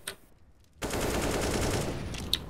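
Rapid automatic gunfire shooting through a wall in a competitive first-person shooter match, a short burst, then a dense, loud, continuous stream of shots after a brief quiet gap.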